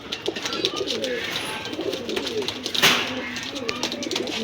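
A golden male Pakistani pigeon coos in a shop, soft repeated throaty calls with faint voices and bird chatter in the background.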